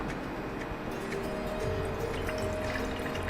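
About one and a half cups of water pour steadily into a pressure cooker for paal payasam, a continuous soft rushing at moderate level with no talking.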